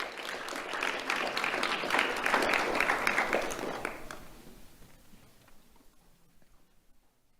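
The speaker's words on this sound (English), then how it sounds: "Let's have a round of applause for Carolina Ramos." At a sheriff's office awards ceremony, an audience claps for a young student being honoured, a dense burst of clapping that swells for a few seconds and then thins out into scattered claps and quiet.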